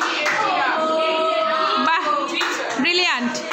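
Students in a classroom clap together as a group, and a voice is heard speaking over the clapping throughout.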